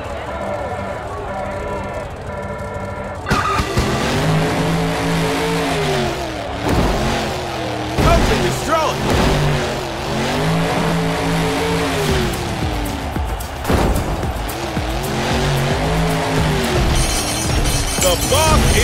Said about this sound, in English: With an engine roar that echoes through the night, this truck is ready to lead the competition in the dust.